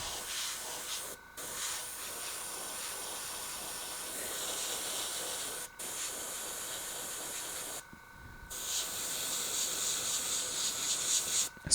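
An airbrush sprays paint onto a 3D-printed figure, giving a steady close hiss that cuts out briefly a few times before resuming.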